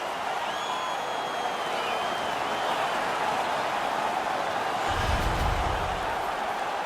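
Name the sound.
crowd cheering in NHL 19 video game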